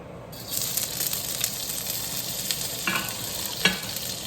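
Pepper and garlic sautéing in oil in a pan while cabbage is being prepared, giving a steady broadband sizzle with a few stirring scrapes and one sharp clatter near the end.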